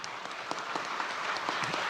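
Audience applause filling a hall at a political speech in Indonesia, steady and moderately loud, a thin even patter of clapping without much enthusiasm.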